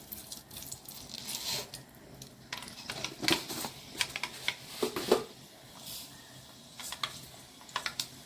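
Fenugreek seeds sizzling in hot ghee and oil while tempering sambar, faint crackling pops and irregular spits scattered over several seconds, quiet and close.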